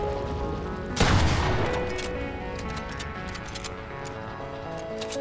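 A Fortnite shotgun blast, a single loud boom with a decaying tail, followed by light ticking game effects and a steady music bed.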